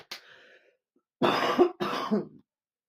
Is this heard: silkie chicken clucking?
no